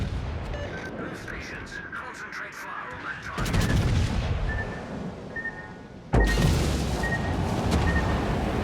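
Secondary guns on a German battleship in World of Warships firing in repeated bursts, with sharp reports at about 3.5 and 6 seconds over continuous battle noise and game sounds; someone talks throughout.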